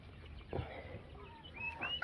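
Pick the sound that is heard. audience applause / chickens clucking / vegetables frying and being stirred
chickens clucking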